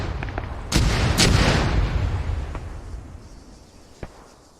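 Gunfire in the Arma military video game, two sharp broadband shots close together early on, then a single fainter shot later over a lingering rumbling tail, with no voices.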